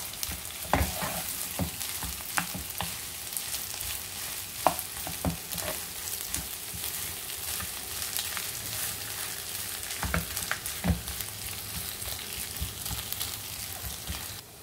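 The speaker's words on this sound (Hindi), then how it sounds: "अब इसमें ऐड करते हैं हम पोटैटोस। अब इन्हें अच्छे से मिक्स करते हैं।" Boiled potatoes stirred into light golden onions frying in a pan, a steady close sizzle broken by scraping spoon strokes and occasional knocks against the pan.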